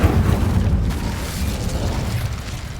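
Incendio fire spell cast in the Hogwarts Legacy video game, a loud whooshing, rumbling burst that stays heavy in the low end for a few seconds with no talking.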